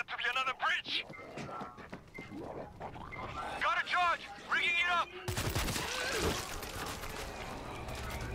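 Bursts of rapid, suppressed machine-gun fire from a video game ring out amid talking voices, then a harsh sustained blast of noise dominates the final seconds.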